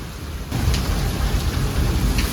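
A heavy hailstorm with thunder pounds outdoors, a dense, constant roar of hail and rain striking surfaces, with low rumbles of thunder underneath and no voices.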